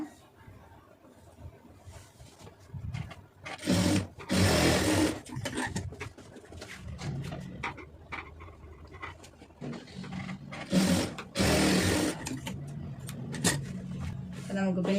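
Sewing machine stitching a lined blouse in bursts, loud fast runs of needle clatter separated by pauses, with someone talking at times between and over the stitching.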